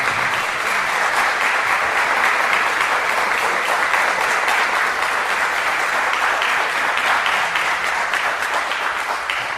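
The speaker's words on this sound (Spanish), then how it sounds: "Van a tener que volver a aplaudir" A live audience at an interview event claps continuously and steadily, a dense, loud wash of applause that holds at an even level from start to finish with no voices over it.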